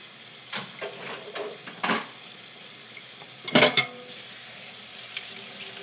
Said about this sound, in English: I'm washing the dishes to put them in the dishwasher.